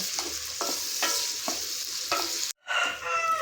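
Garlic sautéing with turmeric and rock salt in a pan, a steady hiss broken by regular scrapes and stirs, close and continuous, with a short sharp break near the end.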